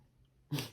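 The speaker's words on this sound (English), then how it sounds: "Sorry if you hear my dog snorting in the background." A pet dog snorts nearby in a quiet room, one short burst of snuffly, breathy noise after a stretch of near silence, ending with a faint sharp sniff.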